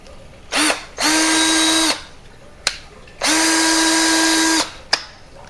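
A cordless drill whirs in two long bursts with brief blips between, its chuck spinning and ratcheting as it is tightened on a 1-inch bi-metal hole saw, loud and close.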